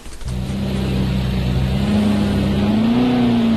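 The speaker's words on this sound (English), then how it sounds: "I can hear you revving as well" A race car engine in a video game idles, then revs up steadily in a loud, sustained drone with a rising whine, nearby, with no voices.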